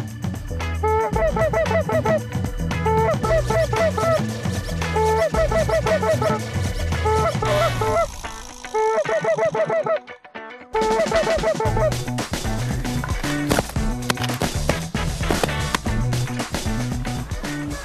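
Loud, busy honking calls from a flock of geese overlap continuously, with a brief lull partway through before the clamor resumes.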